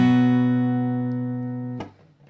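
A single B bar chord strummed on guitar rings out close and clear, decaying slowly before a sharp muted scrape cuts it off near the end.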